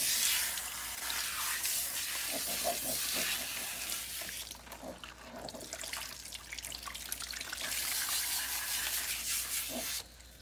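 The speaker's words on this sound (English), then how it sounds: "you'll just rinse it out with cool water" Tap water running at a salon sink as hair is rinsed with cool water, a steady close splashing wash with brief pauses and shifts, cutting off near the end.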